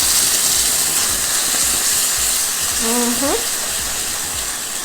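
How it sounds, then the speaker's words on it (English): Butter melting with barbecue sauce in a hot skillet gives a steady, loud, close sizzle that runs unbroken throughout, with a brief squeaky tone partway through. "To this heated pan right here, all right, this hot skillet, we are gonna add our butter."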